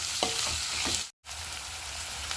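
Ginger and garlic being sautéed for pickle crackle and sizzle in a pan, a continuous close frying hiss with faint stirring knocks, interrupted by a brief cut of silence midway; nobody speaks.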